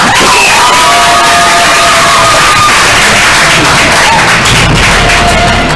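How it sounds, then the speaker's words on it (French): Audience at the final of a televised school competition show, loud sustained cheering and shouting crowd filling the room, dense and close throughout with a deeper thump entering near the end. "applaudissez pour vous-même"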